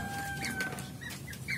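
Barred Rock chickens cluck softly in a few short, high bursts toward the end, faint and close against a steady low background hum, with no talking.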